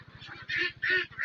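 White ducks on a duck farm calling, with two or three loud nasal honks close by over a low background hum.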